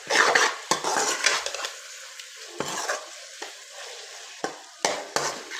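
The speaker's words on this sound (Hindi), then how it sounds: "सब कुछ डाल के इन्हें अच्छे से हिला लीजिए एक दफ़ा।" A spoon stirring vinegar, soy and chilli sauce masala in a pan, with repeated sharp clinks and scrapes against the metal over a soft sizzle, close and without talk.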